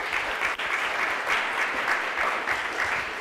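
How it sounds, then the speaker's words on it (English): An audience applauds to welcome Mark Greene to the stage for a talk on workplace culture: a dense, steady wash of many hands clapping, close and even for the whole stretch, with no voices over it. "Shall we give him a round of applause?"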